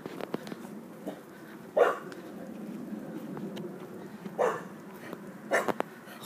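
A few short puppy barks and whimpers break out at intervals over a low, steady background hum, one near the start, one midway, one toward the end.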